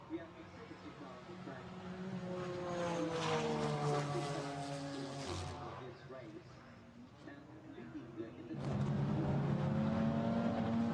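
GT4 racing cars on the Misano circuit in a European series race roar around the track at the restart, engines droning and rising in pitch, with steady commentary talking over the noise throughout.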